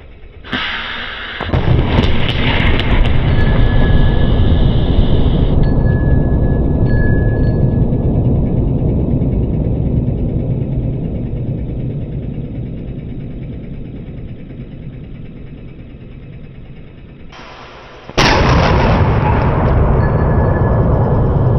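A Lorentz plasma cannon firing at a target, a sudden loud blast that settles into a long roaring rumble slowly fading, then a second sharp burst near the end, no speech.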